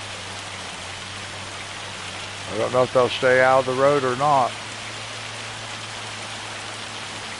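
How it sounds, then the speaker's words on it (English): Heavy rain pours down steadily over freshly planted farm fields, a dense, even hiss from start to finish, while someone speaks briefly in the middle. "Whoa, look at that rain."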